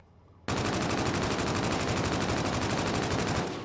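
KBAR rifle firing in a video game, a sudden loud sustained burst of rapid automatic shots lasting about three seconds before tapering off, close and alone without talk.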